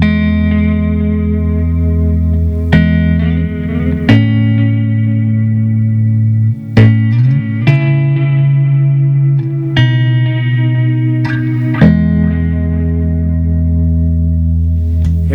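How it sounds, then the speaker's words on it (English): Electric guitar chords from a PRS Hollowbody I ring out through a plate reverb with a wide, shimmering tail, each strum decaying slowly into a washy ambience. "Add some reverb in."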